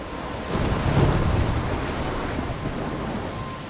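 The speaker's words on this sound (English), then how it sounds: "I'm trapped in a storm?" Rainstorm with rumbling thunder in the video game Life Is Strange, a steady broadband wash of rain with a low roll swelling around the first second, heard alone without voices.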